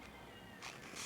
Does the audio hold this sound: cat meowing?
yes